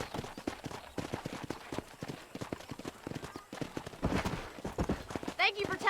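Horse hooves gallop in a rapid, steady clip-clop rhythm while herding cattle to a cow pen in Red Dead Redemption, with a whinny near the end and a voice speaking over the hoofbeats.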